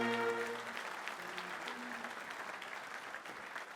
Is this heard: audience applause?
yes